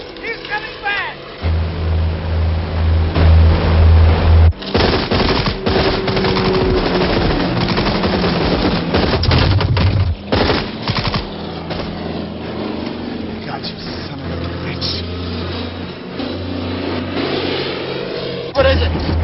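Rapid gunfire bursts from a battle scene in a 1990 film, loud and dense with engine-like drone, mixed throughout with shouted dialogue and rumbling background.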